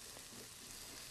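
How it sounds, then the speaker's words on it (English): Mushrooms saute in a pan, giving a soft, steady sizzle with a faint frying crackle, quiet and close, with no voices. "What we're doing here is sauteing the mushrooms."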